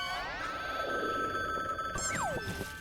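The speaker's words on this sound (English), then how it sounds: "Let's answer our phone." Video game telephone ringing with a bright electronic trill, a couple of repeated ring bursts followed by a quick descending tone, clean and close with no talk.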